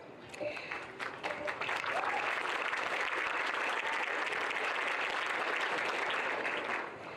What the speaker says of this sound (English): they truly deserve your applause